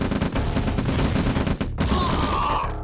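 Rapid overlapping bursts of gunfire from units in Command & Conquer: Red Alert, a loud, dense fusillade of machine-gun-like shots that cuts off sharply near the end, followed by a brief electronic tone.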